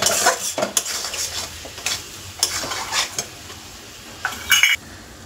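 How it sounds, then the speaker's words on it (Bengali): Spices with a little chili powder stirred and sautéed in oil in a pan, with loud, close scraping of a metal spatula over a light sizzle and a final clink. "এবার খুব ভালো করে কষাবো।"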